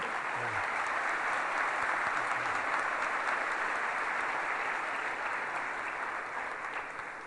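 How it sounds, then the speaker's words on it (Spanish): Sustained applause from a large conference audience welcoming a speaker, a dense even patter of clapping that holds steady and eases slightly toward the end. "El aplauso es para usted."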